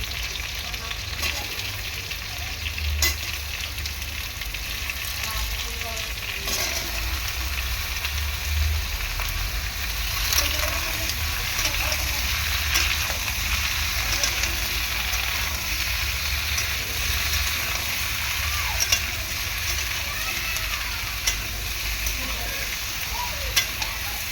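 Young pumpkin pieces and potatoes fry in hot oil while being stirred, giving a steady close sizzle with occasional soft scraping from the stirring.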